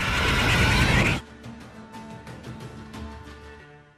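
A horse in The Witcher 3 video game lets out a loud, close neigh lasting about a second, followed by quieter low snorting and faint background game ambience.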